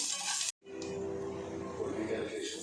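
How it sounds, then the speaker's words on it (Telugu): Curry leaves and dried red chillies fry in hot oil as a tempering for dosakaya chutney, giving a steady, close sizzle with crackling that cuts out briefly, then resumes and continues evenly. "కరివేపాకు, అలాగే ఎండుమిర్చి వేసి కాస్త వేపుకుందామండి"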